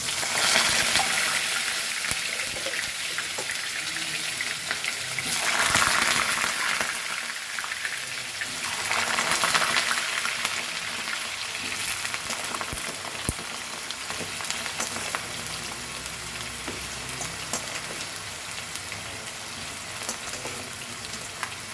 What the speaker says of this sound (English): I am going to fry the potatoes first and keep aside.